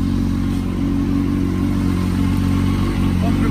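A Kawasaki motorcycle fitted with an Akrapovic exhaust idles after starting, a steady, loud low rumble with a fast even pulse that holds without letup.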